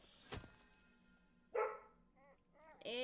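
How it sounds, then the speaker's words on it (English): A pet dog barks in a quiet indoor room: one sharp bark, then a short run of yips and barks toward the end, all moderately close and with no talk over them. "And now my dog's barking."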